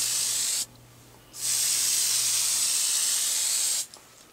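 A spray can of lacquer paint hisses while coating a 1/100 scale Estes Saturn V rocket model, producing two loud, steady bursts of close spraying, the first under a second and the second about two and a half seconds, with a short pause between.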